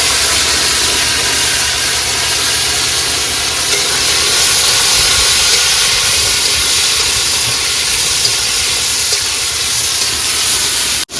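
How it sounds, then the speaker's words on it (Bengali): Tomato, chopped onion and chilli hit hot oil together, giving a loud, steady hiss and sizzle that holds for the whole stretch before cutting off at the very end. "তেল গরম হয়েছে এখন দিয়ে দেবো টমেটো পেঁয়াজ কুচি আর লঙ্কা"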